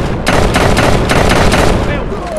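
Rapid burst of gunfire, loud and close, a string of about eight sharp shots in quick succession followed by a brief ringing tail.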